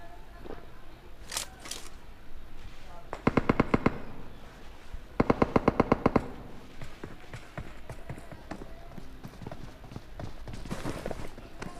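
Automatic rifle fire in the mobile battle royale game PUBG Mobile comes in two sharp rapid bursts, a few seconds apart, among lighter clicks and footstep-like taps at moderate loudness.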